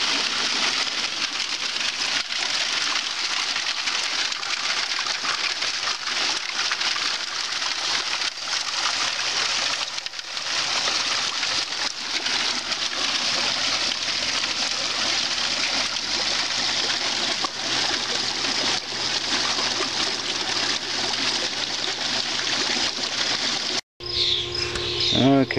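Water pouring and splashing steadily through a bucket trommel used for testing, a continuous wash of noise lasting the whole stretch with a brief break near the end.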